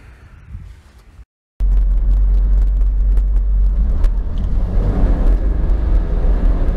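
A Smart Fortwo city car on a road test, heard from inside with a loud, steady low engine and road rumble that starts abruptly after a brief gap and continues throughout.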